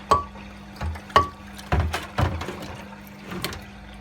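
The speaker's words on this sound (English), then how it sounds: "You can hear the motor, the pump motor chugging there." Hotpoint WMA40 washing machine drain pump emptying water during spin, irregular gurgling surges and splashes about once a second over a low steady motor hum, heard close up.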